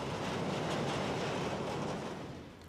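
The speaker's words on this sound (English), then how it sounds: "This mixture of wagon types is typical for a train conveying cold-reduced steel coil." A Belgian freight train of mixed wagons carrying cold-reduced steel coil rolls past with a steady broad rumble that fades slightly toward the end.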